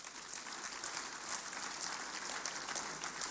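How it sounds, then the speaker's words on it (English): An audience at a public lecture honouring General Yakubu Gowon at ninety claps steadily, a soft, dense patter of many hands heard from a distance, with no voices over it. "I think you should clap for him."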